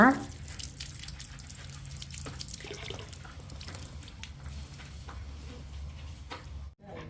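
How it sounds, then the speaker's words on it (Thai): Boiled bamboo shoots rinsed in water, with soft splashing, trickling and dripping close by, a clatter at the start and a short pause near the end. "เดี๋ยวแค่เลยก็จะตักออกไปล้างน้ำทำความสะอาดอีกหนึ่งรอบค่ะ"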